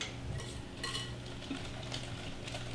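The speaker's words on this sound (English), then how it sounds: "Get those whisked in." Eggs with wild greens being whisked for kuku sabzi, a faint, quick scraping and tapping of a whisk in a bowl, continuous and close with no voices.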